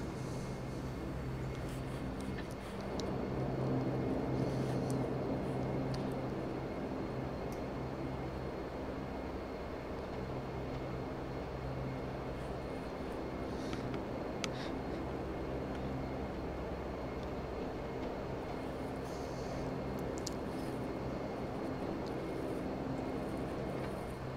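A Majestic Q400 turboprop airliner taxis to the runway in a flight simulator game, giving a steady, continuous engine drone with a low hum and no talk.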